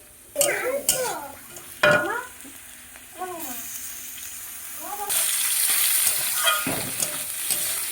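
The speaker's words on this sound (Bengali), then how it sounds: "চিকেনগুলো ভালো করে ভেজে নেব।" Chicken frying in a pan with spices, with clattering stirring strokes and scraping against the pan, then a louder, steady sizzle that swells as the pieces cook; a voice talks briefly over it.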